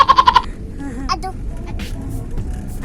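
A small child imitates a goat's bleat with a quick run of five short, wavering vocal pulses at the start, followed by faint background chatter and noise at an outdoor safari park.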